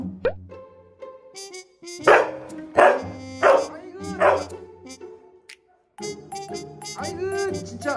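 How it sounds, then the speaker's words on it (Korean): Retriever dog barking, several loud close barks in a burst followed by more barking and yips, with a person talking in between. "짖는 건 1등이야 아주"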